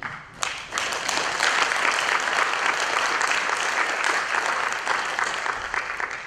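Sustained applause from an audience after a panel discussion at a university innovation and research exhibition in Dar es Salaam, starting abruptly after a brief quiet moment and continuing steadily at full strength, many hands clapping together.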